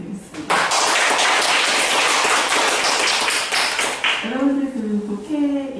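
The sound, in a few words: audience applause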